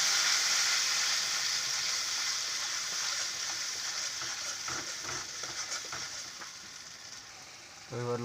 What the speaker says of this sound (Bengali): আমি যে মশলা তৈরি করে রেখেছিলাম সেইগুলো তেলে দিয়ে দিচ্ছি।